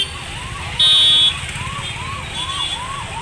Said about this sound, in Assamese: এখন এম্বুলেঞ্চ ফচি গৈছে